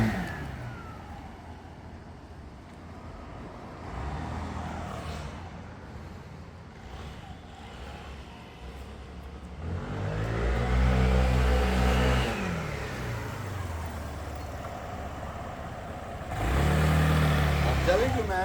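A scooter engine revs while riding around a parking lot on the Avenue of the Giants, rising and falling in several throttle swells, moderately near, with people talking over parts of it.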